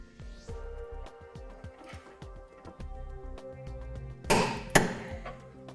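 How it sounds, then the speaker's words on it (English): A bolt being snugged up on the tow hook of a 2008 Infiniti G35 during a Curt trailer hitch install: a run of light, rapid ratchet clicks, then a few sharper metallic knocks, close and quiet. "We'll go ahead and snug up a bolt on the tow hook."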